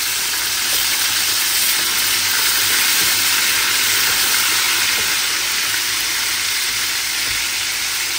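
Hilsa fish frying in hot oil while khichuri is cooked on a rainy day: a steady, close, dense sizzle and hiss that runs unbroken throughout, with no talking.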